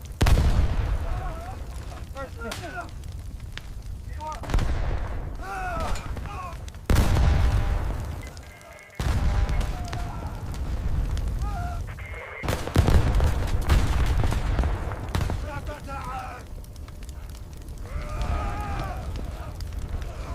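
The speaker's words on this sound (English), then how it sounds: "We are under direct fire. Repeat, direct fire." Dramatized Normandy 1944 combat under direct fire: heavy gunfire and artillery blasts, with loud, sharp bursts recurring every few seconds over a dense, continuous rumble of battle.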